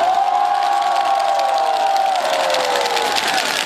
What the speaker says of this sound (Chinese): 但是大家的掌声跟尖叫让我听到觉得非常的温暖